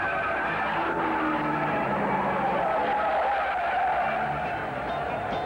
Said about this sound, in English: Art Pollard spins in turn 3 at the start of his qualifying attempt